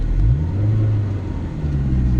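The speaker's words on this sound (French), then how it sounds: "Le moteur est sonore." A Peugeot 205 GTI engine runs close and loud, a steady low rumble with a slight rise in pitch early on, heard alone without talk.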